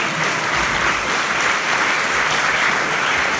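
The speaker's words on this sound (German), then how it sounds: "Vielleicht einen kleinen Applaus für den Kali Braun" Live concert crowd in Hallstadt gives a short, steady burst of applause for the pianist, a dense even wash of clapping with no gaps.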